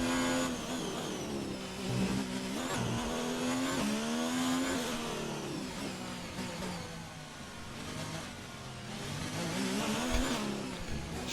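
Formula 1 car from the F1 2019 racing game lapping the Monaco street circuit in qualifying, a continuous loud engine whine that rises and falls with gear shifts and revs, with no talk over it.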